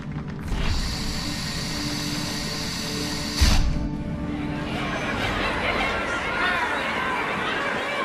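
Murmuring crowd chatter from a gathered audience in a Halo game scene, a steady diffuse babble with a sharp thump partway through and background hum throughout.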